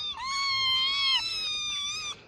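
A kitten found in a forest ghat lets out a long, loud, high-pitched wavering meow followed by a second cry, close to the microphone with no talk.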